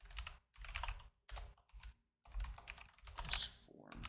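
Typing on a computer keyboard, bursts of fairly quiet clicking keystrokes separated by short pauses, close and alone without talk.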